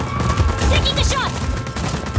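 Dense rapid gunfire from a Just Cause 4 firefight, a continuous loud fusillade of overlapping shots with booming low thumps and shouted voices mixed in.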